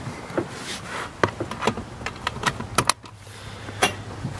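Seatbelt buckling inside a 2016 Can-Am Maverick X xc 1000 side-by-side: a run of sharp plastic and metal clicks and rattles, close and fairly loud, ending in a firm latch snap before a low steady hum.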